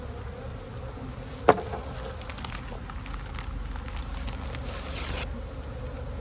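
Honey bees hum in a dense, steady drone from an opened hive with a crowded cluster up top, the buzzing continuous and close throughout with a single sharp click near the start.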